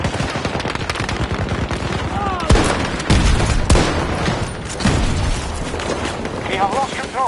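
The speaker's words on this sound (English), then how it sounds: "grenade out!" Battlefield 2042 combat with rapid automatic gunfire and heavy booming blasts, including a grenade explosion, loud and dense throughout, while a voice shouts over the barrage.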